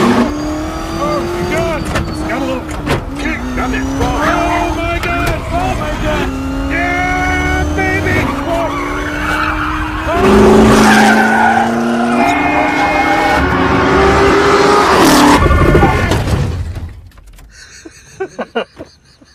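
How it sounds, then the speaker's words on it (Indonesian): A race car from Ford v Ferrari accelerates hard through the gears, its loud engine rising in pitch again and again over film music and effects, then cuts away near the end to quiet scattered sounds. "dan Shelby pun langsung tancap gas."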